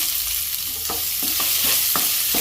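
Chopped onions fry in a pan with curry leaves, a constant bright sizzle punctuated by regular scraping strokes of stirring, close and loud with no talk.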